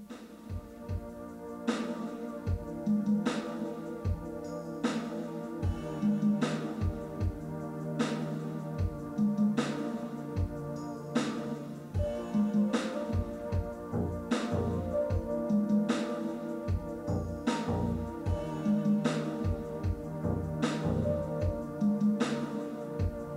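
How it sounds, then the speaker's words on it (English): A synthesizer plays through loudspeakers in a recording room, picked up by room microphones with only early reflections, giving a dense sustained tone with a steady pulsing rhythm of sharp repeated hits throughout. "here's the sound of the synthesizer through the speakers in the room"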